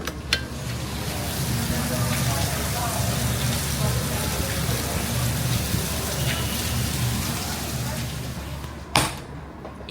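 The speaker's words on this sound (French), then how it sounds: "il pleut sa mère." Heavy rain falling on a Thai island, a steady dense hiss of drops with a low background rumble, constant throughout with a brief knock near the end.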